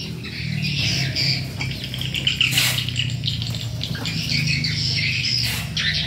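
Caged chickens and jungle fowl squawk and chirp in bursts, fairly loud and close, with rustling and a low background hum between calls.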